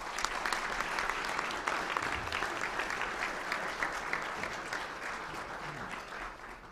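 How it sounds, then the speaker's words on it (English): Steady applause from a luncheon audience at the National Press Club, dense clapping that holds evenly for several seconds and eases slightly toward the end. "And now, how about a round of applause?"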